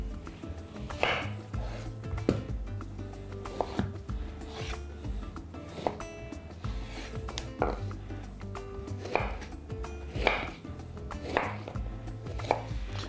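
Pear being chopped into cubes on a cutting board with a knife, a steady series of close, crisp knife strikes repeating at a regular pace throughout.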